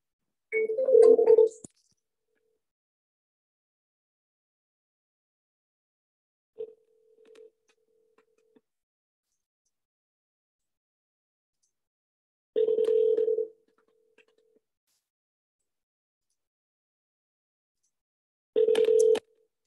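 Cell phone call ringing out on a business cold call, a few short ringback tones spaced several seconds apart, each about a second long, with near silence in between.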